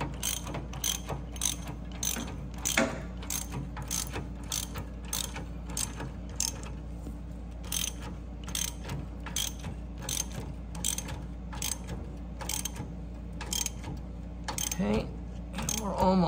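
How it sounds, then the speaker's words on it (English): Ratchet wrench tightening a bolt on a C8 Corvette exhaust, a rapid series of close clicking ratchet strokes repeating steadily over a low hum, with someone talking at times. "I'm tightening that bolt up right there like so"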